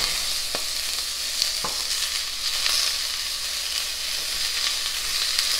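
Ground beef cooking in a pot with a drop of olive oil gives a continuous bright sizzle, with a couple of soft stirring knocks, fairly close and without talk.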